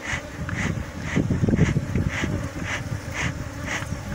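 Honey bees buzz around a hive during work on a second honey super, a dense continuous drone with individual bees passing close in pulsing waves.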